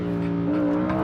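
A Ford GT V6 supercar's engine pulls strongly under acceleration, a steady loud droning growl heard close up from inside the car, with no talk.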